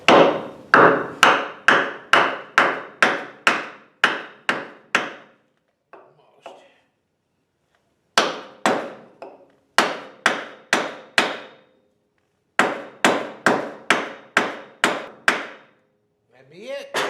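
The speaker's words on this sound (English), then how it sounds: "And we just take it and hammer it on." Sharp metallic hammer blows in quick regular bursts of about ten strikes each, separated by short pauses, loud and close, as a bearing buddy is hammered onto a trailer wheel hub.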